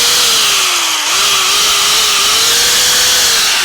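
A Milwaukee angle grinder, fitted with a disc that may wobble, whines steadily at full speed with a brief dip in pitch partway through before spinning back up, loud, close and constant throughout.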